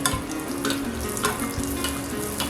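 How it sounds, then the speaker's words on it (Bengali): Malpua, a traditional sweet, fries in hot oil over a medium-low flame, with a steady close sizzle and bubbling crackle throughout and no voices. "মিডিয়াম থেকে একটু লো ফ্লেমেই মালপোয়াগুলোকে আমি ভাজবো"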